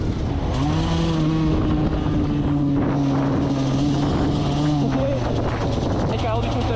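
A 25-year-old motorcycle engine runs loud and close with a steady droning tone that rises and falls slightly in pitch as it revs, over a busy, noisy background.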